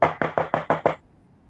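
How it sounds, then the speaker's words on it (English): Six quick, evenly spaced knocks on a door, close and firm, with the rap fading after the last knock and no voices. "knock, knock, knock on my door."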